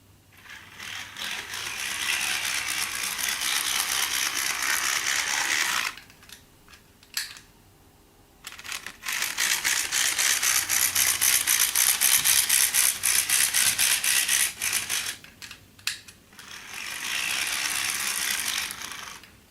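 An HO/OO scale Percy model locomotive with a scratch-built chassis runs loudly on track, giving a harsh, fast ratcheting gear whir in several long bursts with short quiet gaps between runs.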